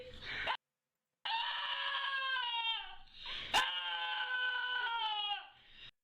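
A dog in a home setting whines and whimpers in long, high, wavering tones, broken by a brief silence, then a sharp yelp-like peak before the drawn-out whining resumes.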